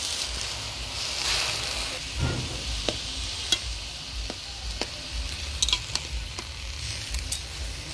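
Green chilies frying with taro leaf greens in a pan in a home Bengali kitchen, stirred to give a soft, steady sizzle with scattered sharp clinks of the utensil against the pan.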